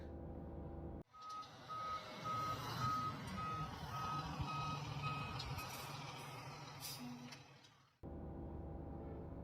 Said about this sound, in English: Mobile, cement mixing truck.